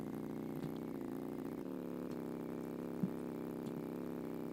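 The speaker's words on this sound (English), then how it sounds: "the mopeds are like, ear-splittingly loud." A moped engine in the Roblox Bloxburg video game drones steadily at an even idle, a constant mid-pitched buzz that stays level and fairly quiet, with one small click partway through.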